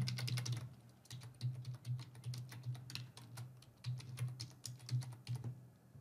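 Someone types an email address on a computer keyboard: a quick run of light, close clicking keystrokes that comes in short bursts with brief pauses, over a faint steady low hum.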